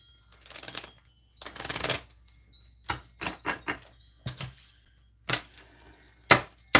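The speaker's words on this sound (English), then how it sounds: "dropping the cards. These ones are hard to shuffle." Tarot cards being shuffled by hand: a run of short riffling and slapping bursts, some longer, others quick taps, close up in a quiet room with no talking.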